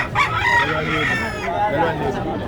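A fighting rooster crows loudly and close by at a pet market selling gamecocks in Malolos, one long strained call holding for about two seconds over faint background bustle.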